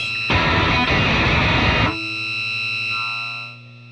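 A Schroeder Blister Agent distortion pedal with its filter fully open plays a loud, fuzzy, dense burst of distorted guitar for about a second and a half, then cuts to a sustained ringing tone that fades away.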